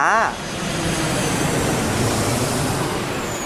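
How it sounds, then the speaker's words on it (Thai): A loud, broad jet roar of an airplane powering up, sustained and steady, with a brief voice-like sound at the very start. "เสียงเครื่องบินที่กำลังทะยานขึ้นสู่บนท้องฟ้า"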